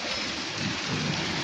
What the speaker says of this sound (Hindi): बारिश रुकने का नाम ही नहीं ले रहा है यार